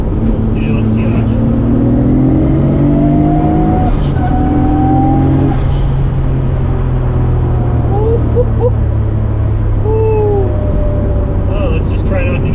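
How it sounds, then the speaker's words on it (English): A Nissan GT-R with a 2.8-liter RB28 HKS stroker engine, forged internals and VCam pulls hard under boost, loud steady engine roar inside the car with a rising whine, while someone talks over it. "the VCam makes way more of a whine on this"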